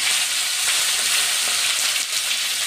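Chopped onion hits hot oil with cumin seeds, producing a loud, dense, continuous sizzle that stays steady from start to finish with no talking.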